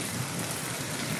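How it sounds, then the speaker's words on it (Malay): Heavy rain pours steadily during a storm in Kuantan, Malaysia, a dense, unbroken hiss of drops hitting surfaces that stays loud and even throughout. "Hujan masih lebat."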